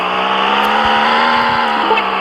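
A small car driven on patrol, its engine droning steadily and loudly up close with a rising tone as it accelerates, no speech over it.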